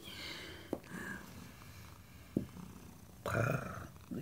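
A cat purrs in a low, continuous rumble up close, broken by a few sharp clicks and a louder breathy burst near the end.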